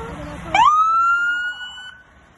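Fire truck from the Edson Fire Department passing in a Christmas parade, a short loud siren whoop that rises sharply, then holds a steady wail before cutting off, with people talking nearby.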